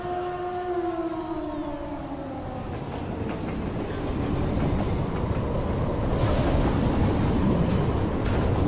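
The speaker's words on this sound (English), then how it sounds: "Interesting, where's this train going?" A train in a video game cutscene rumbles steadily with a rising, wailing siren-like whistle at the start, then a building roar and rattle that grows louder toward the end, with no talking.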